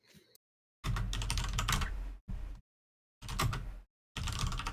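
Loud, close keyboard typing in several dense bursts separated by short silences, with no talking over it.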